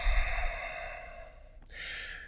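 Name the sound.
deep breathing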